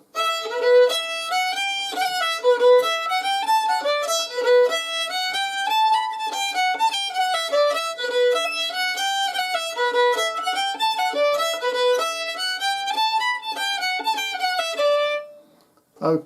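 Solo fiddle plays section D of the Irish slip jig Kid on the Mountain, a steady lilting run of bowed notes in triple rhythm, clear and close, ending in a brief pause with a faint noise after.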